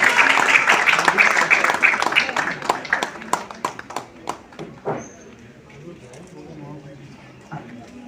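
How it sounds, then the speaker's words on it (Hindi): At an award ceremony in a hotel, an audience claps, first as a dense burst and then as thinning individual claps that fade out, with a voice speaking faintly. "एक बार जोरदार तालियां हो जाएं।"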